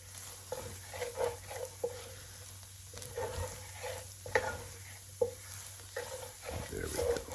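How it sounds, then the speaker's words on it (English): Flour cooking in a pan for biscuits-and-gravy roux, stirred steadily with repeated scraping strokes over a soft continuous sizzle, fairly close and moderately loud with no talking. "So we're going to cook this flour for about 1 minute."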